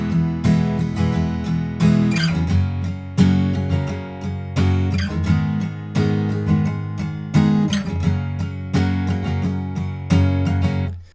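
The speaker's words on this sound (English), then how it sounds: "you can use down, down, down, down, up twice for each chord" Acoustic guitar strummed in a down, down, down, down, up pattern on each chord, a steady driving rhythm of bright full chords, close and alone.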